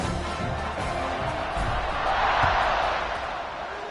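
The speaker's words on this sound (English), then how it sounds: "this crowd is feeling themselves after that last drive" Football stadium crowd at a kickoff, fans buzzing after a touchdown drive: a loud, continuous roar of many voices that swells toward the middle and eases off, with no clear individual words.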